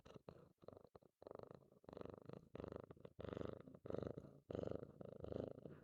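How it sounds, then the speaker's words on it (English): Cartman, a pet cat, purrs up close in a slow, rhythmic rumble, each breath making a separate throaty burst with brief gaps between. "I want you to listen to my cat purring."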